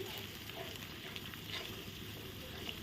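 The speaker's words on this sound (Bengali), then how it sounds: "এখন আছে পোস্ত আদা বাটা দিয়ে ভালো করে নেড়ে দিচ্ছি" Poppy seed and ginger paste fry in a pan for a fish rezala, a steady low sizzle with faint scraping of stirring, fairly quiet and unbroken.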